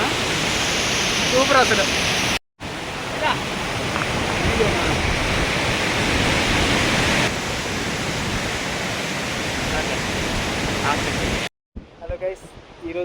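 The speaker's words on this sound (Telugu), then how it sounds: "బాహుబలి కంటే హైలైట్ అయిన వాటర్ ఫాల్ ఉంది పైన" Ladda waterfall near Parvathipuram, known as the Bahubali waterfall, roars as a loud, steady broadband wash of falling water close by, with brief cuts in the sound and a voice speaking near the end.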